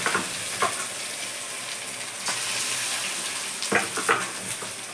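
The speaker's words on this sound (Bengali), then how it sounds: "যেগুলো ম্যারিনেট করে রেখে দিয়েছি মাংসগুলো এবার তেলে ভাজবো" Marinated chicken pieces for chilli chicken sizzle steadily in hot oil in a large wok, with a continuous crackling hiss and a few louder spits as pieces are turned.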